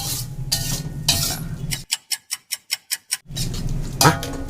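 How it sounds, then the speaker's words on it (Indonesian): Chop suey (capcay) cooks in a pan with a steady frying hiss, and a quick run of about eight sharp metallic ticks cuts through the middle as a utensil strikes the pan, all close by. "Masak capcay."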